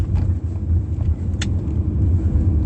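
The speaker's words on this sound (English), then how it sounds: "getting ready to take this vehicle through the car wash" An idling car engine rumbles low and steady at close range while waiting to enter a car wash, with a brief sharp click midway.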